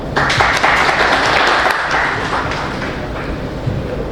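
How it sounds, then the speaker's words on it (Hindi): Audience applause at an inauguration ceremony, dense and steady clapping at fairly close range that holds for the whole stretch and thins slightly toward the end, with no clear talk over it. "तो आप सभी के लिए बहुत जोरदार तालियां हो जाए।"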